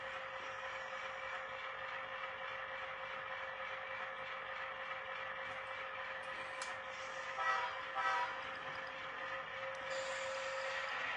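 An HO scale model train runs along a layout of the Chicago and North Western Redwood Falls Branch, giving a steady whirring rumble with faint clicks, alone and fairly quiet throughout.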